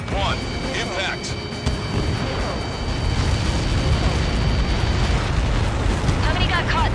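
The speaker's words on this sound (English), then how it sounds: "How many got caught in that explosion?" Missile impact explosion in the video game Ace Combat 7 rolls out as a deep, sustained rumbling roar that grows heavier midway, with radio-style voices talking over it.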